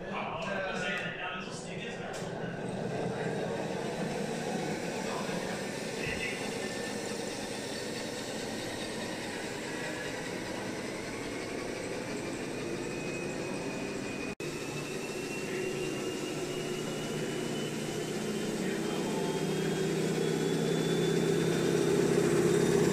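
Motor whine from an RC truck pulling an equipment trailer holds steady, then rises toward the end, with talking heard in the background throughout.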